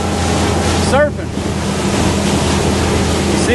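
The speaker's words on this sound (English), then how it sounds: "that's some big old waves right there" Big ocean waves crash and roll continuously near a huge bridge at a fishing spot, a loud broadband surf roar with gusting wind buffeting the microphone throughout.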